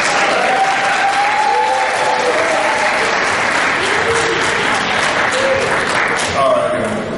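Steady, dense applause from a community forum audience fills the room, sustained and fairly loud, with scattered voices mixed in beneath the clapping.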